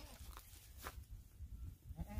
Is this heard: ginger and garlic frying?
no